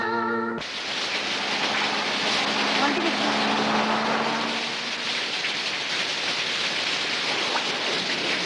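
Rain falls in a film scene, a steady, even hiss that sets in after a brief opening sound and continues evenly to the end.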